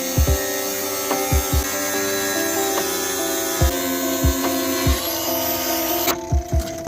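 A power tool cuts through the front bumper of a 2008 Toyota Tundra, giving a continuous loud whining drone close by, broken by irregular low thumps and knocks until the tool suddenly stops near the end.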